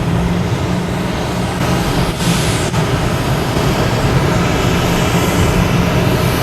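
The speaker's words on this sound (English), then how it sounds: "Oh, we just had WestJet land." A WestJet airliner lands at Boston Logan Airport, its jet engines producing a loud, continuous broadband roar that stays steady throughout with no talking.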